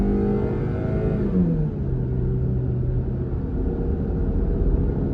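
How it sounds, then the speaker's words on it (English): A car engine rumbles and drones with a low, rough growl, its pitch sliding down as it steadies into a continuous throbbing hum. "What the hell's wrong with my engine?"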